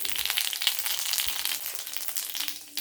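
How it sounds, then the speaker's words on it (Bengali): Radhuni spice tempering dropped into hot oil for a papaya curry, a steady bright crackling sizzle with small pops, close and continuous, fading slightly toward the end. "তেল গরম হয়ে গেছে, এর মধ্যে এখন আমি রাঁধুনি ফোড়ন দিয়ে দেবো।"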